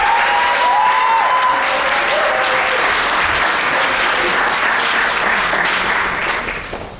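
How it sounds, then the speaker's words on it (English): A crowd at a school poetry recitation competition breaks into sustained, loud applause that fills the room for several seconds before tapering off at the end. "one more round of applause for all of our competitors"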